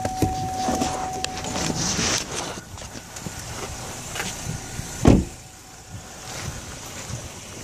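A car drives along a road, heard from inside the cabin as a steady rumble with passing whooshes and one sharp thump midway. There is no talk.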